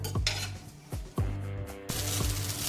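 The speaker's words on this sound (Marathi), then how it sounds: "थोडंसं तेल टाकलेलं आहे आता आपण त्यामध्ये मिरची टाकणार आहोत आणि या चांगल्या आता परतून घ्यायच्यात आपल्याला" Green chilies stirred in a little hot oil in a pan for a traditional chili thecha, with a sharp sizzle under the repeated clanks and scrapes of a metal spoon against the pan, close and fairly loud.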